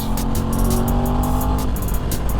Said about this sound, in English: It's got these weird burbles and backfires